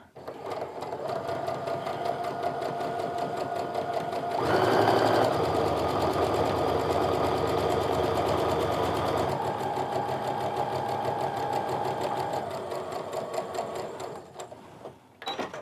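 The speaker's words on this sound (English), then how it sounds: "I'm just still going to sew straight down the center, but on the other side of the line that I drew" A sewing machine stitches straight down the center of white fabric in white thread, giving a close, steady mechanical whir that gets louder through the middle and then slows and stops, with a voice faintly underneath.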